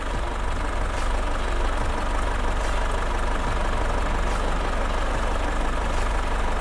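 A steady diesel engine idle of a SsangYong G4 Rexton 2.2 4WD SUV rumbles on without a break, close and even, with a low churning drone and no voices over it.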